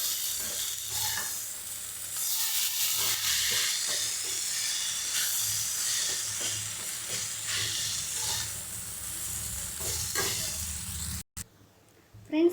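Veg noodles sizzle and hiss in a hot pan while being stir-fried and tossed, with steady frying noise and frequent scraping stirs throughout, breaking off abruptly near the end.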